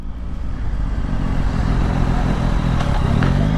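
A Yamaha MT-09 Y-AMT motorcycle ridden in fifth gear, a loud, steady low engine drone with heavy rushing wind noise throughout and no clear revving.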